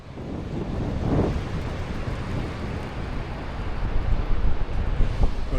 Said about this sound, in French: De temps en temps, un petit peu de vent.